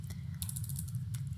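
A few quick keystrokes land on a computer keyboard as a router command is entered, light clicks close by over a low steady hum.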